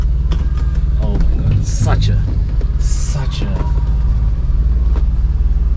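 A BMW 628 CSi engine rumbles low and steady at idle while the car rolls along and someone speaks over it.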